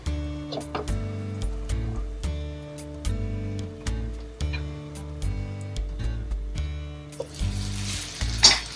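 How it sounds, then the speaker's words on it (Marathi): Tomatoes sizzle steadily in a covered pan while roasting for a paneer bhuna masala, a close, continuous frying hiss with faint ticking, briefly brightening near the end. "आपण त्याला झाकण ठेवूया म्हणजे लवकर टमॅटो भाजेल"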